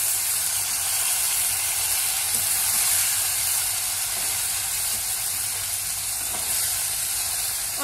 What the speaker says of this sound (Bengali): এপাশে হচ্ছে লাঠা মাছ ভাজা